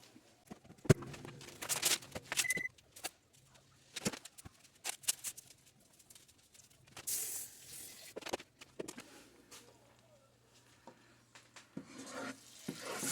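Butter melting in a soup pot for ham and potato soup, stirred with a wooden spoon: quiet scraping and knocking strokes in irregular bursts over a faint steady sizzle, close and soft.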